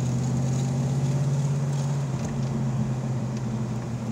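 A 1984 Ford Mustang GT350 drives in second gear with a steady, moderately loud engine hum that dips slightly partway through, with no talking.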